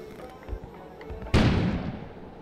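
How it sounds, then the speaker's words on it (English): An explosion goes off outside in the video game Kona, a sudden loud boom that follows a few quiet thumps and decays into a long rumbling tail. "An explosion suddenly occurred outside."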